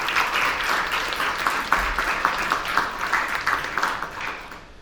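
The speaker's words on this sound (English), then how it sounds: "Let's give our gold level sponsors a round of applause." An audience at a student recognition ceremony gives gold level sponsors a round of applause, a steady moderate clapping that thins out toward the end.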